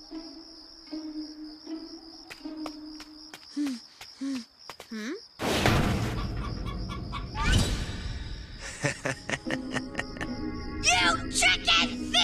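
A chicken clucks in short repeated calls amid crickets and outdoor ambience, with a loud burst of noise midway and more clucking and scuffling afterward.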